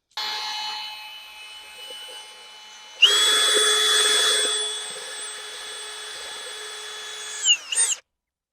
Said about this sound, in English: The drill makes this real easy and thorough.